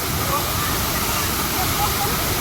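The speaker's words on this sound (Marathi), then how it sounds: "वॉटरफॉल बघा किती मस्त वॉटरफॉल आहे." A monsoon waterfall at Bhandardara roars as a loud, unbroken broadband rush of falling water, close and steady, with no clear voices.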